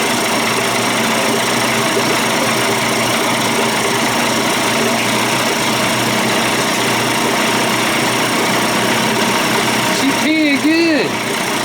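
Johnson Evinrude outboard motor, a 25 to 35 hp conversion, running steadily on a stand, a loud continuous engine drone with a short squeak near the end.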